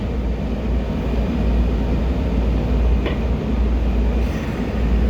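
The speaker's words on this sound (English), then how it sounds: "pulling out of downtown Largo and starting the entire Blue Line to Franconia-Springfield" A Washington Metro Blue Line train pulls out of Downtown Largo station, a steady low rumble of wheels and motors close by with a brief squeal midway, no voices.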